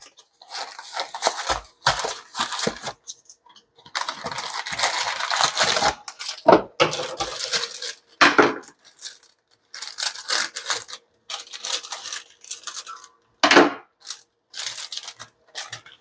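Boxed cake mix pours and rustles into a mixing bowl in a home kitchen, a series of crackly, papery bursts with short pauses between them, close and fairly loud.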